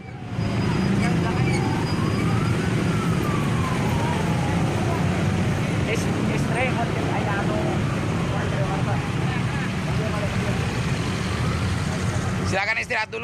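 A wailing ambulance siren sweeps up and down over loud, steady traffic rumble, close and continuous throughout.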